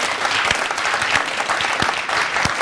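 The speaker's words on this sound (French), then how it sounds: "on va applaudir pour toutes les femmes" Sustained applause from a studio audience on a French-language talk show, dense clapping throughout with a few sharper claps standing out.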